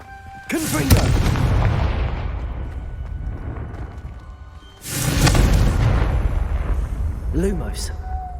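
Two loud, deep Confringo spell blasts in Hogwarts Legacy, each a sharp booming burst with a long rumbling decay, the second about four seconds after the first, with a brief voice line between them.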